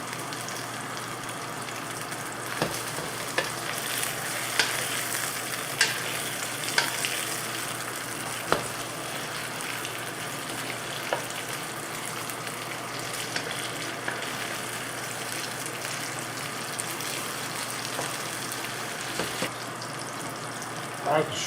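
Colossal shrimp fry in hot oil in a pan, a steady close sizzle running throughout, broken by a few sharp clicks and pops as the shrimp are turned and rolled.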